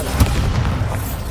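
Bombarda blasting spell cast in Hogwarts Legacy, a single deep booming explosion that hits hard at the start and then rumbles out over about a second, with no talking over it.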